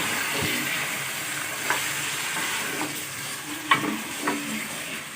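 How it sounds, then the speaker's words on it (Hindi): Masala with chicken frying in a pot for chicken biryani on a home stove, a steady broadband sizzle with occasional stirring clinks and scrapes, close and continuous with no talking. "और इसको भी अच्छी तरह से फ्राई करते हैं।"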